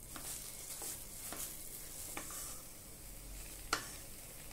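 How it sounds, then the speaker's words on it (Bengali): Chhana and kheer for patali gur sondesh are stirred together in a pan over very low heat, with a soft continuous hiss and a few sharp scraping ticks of the spoon, quiet and close, with no speech. "ভালোভাবে নেড়ে ছানা আর ক্ষীর একসাথে মিশিয়ে নেব।"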